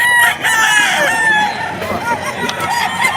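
An Elsin Black stag rooster crows loudly and close by at the Bocaue pet market. The single drawn-out crow stands over a busy background murmur.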